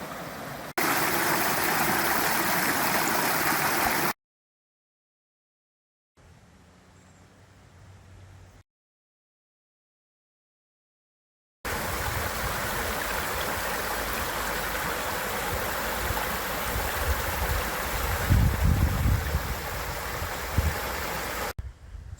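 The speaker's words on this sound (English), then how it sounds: "Here's where we have to cross the stream by hopping on the rocks." A stream flows over rocks at a hiking crossing in Stebbins Cold Canyon, a steady close rushing wash of water broken by two stretches of near silence, with a few footstep thumps later.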